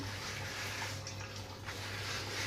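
Dirty water drains out of a washing machine during cleaning in a steady, continuous rushing flow, close and fairly loud, with no talk over it.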